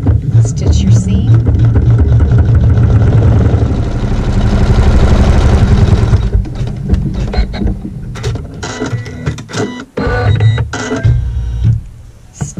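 A sewing machine stitches a quilt seam with a steady mechanical whir for several seconds, then stops, and a voice talks over the quieter remainder.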